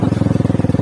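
A motorcycle running close by gives a brief, loud, even throb of rapid engine pulses, steady in pitch throughout and with no voices over it.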